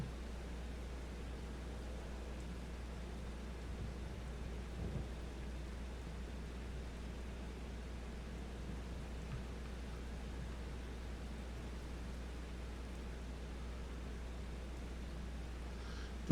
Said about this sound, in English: The rain is not going away.